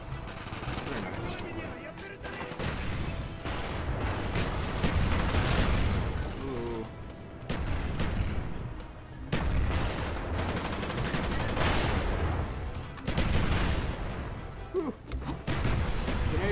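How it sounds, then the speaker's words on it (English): Black Ops 1 multiplayer battle with loud booms of grenade explosions among rapid gunfire, a dense, heavy din that swells and dips, with a voice speaking over it at times. "Grenades everywhere."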